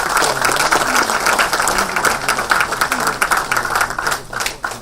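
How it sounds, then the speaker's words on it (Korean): A large assembly of lawmakers gives loud, sustained applause for an outgoing parliamentary floor leader, the close, crisp clapping continuing steadily throughout, with a voice faintly audible beneath it. "전병헌 원내대표님 그동안 수고하셨다는 큰 박수를 다시 한번 보내주시기 바랍니다"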